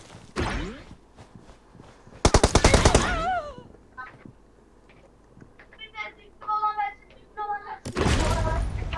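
SCAR-L assault rifle fire in PUBG Mobile: two loud, rapid automatic bursts, one near the start and one near the end, with lighter game effects between them and a player talking over the action.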